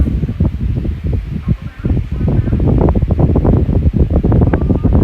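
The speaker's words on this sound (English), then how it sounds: "Kind of looks like you guys can hear the wind stream" A steady air stream rushes continuously from an electric fan in summer, loud and close to the microphone, with buffeting gusts across the whole stretch.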